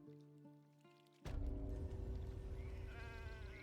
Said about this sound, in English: the sheep are being sheep